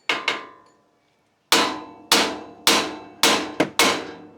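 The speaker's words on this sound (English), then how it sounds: "you want to give it a couple of good, short, hard whacks, and this will pop loose" Hammer strikes on the side of a steering knuckle to shock a ball joint loose on a 2021 Isuzu D-Max during a suspension install: two quick hits, a pause, then five sharp ringing metallic whacks, loud and close.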